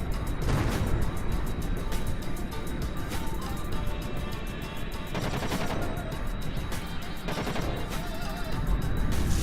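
A Vulcan cannon fires explosive rounds in Kerbal Space Program. Rapid bursts of gunfire repeat over a constant engine-like roar, with several distinct volleys and booming hits.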